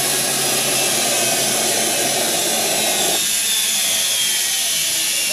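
An Electrolux EW659F front-load washing machine motor runs with a loud, dense whirring roar that stays constant throughout, its lower rumble dropping away partway through, with no talking.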